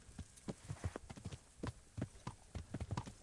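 Horse hooves clip-clop in a steady, uneven gallop-like rhythm from a mounted rider in the medieval game Kingdom Come Deliverance, a run of close, moderately loud hoof strikes with no talk.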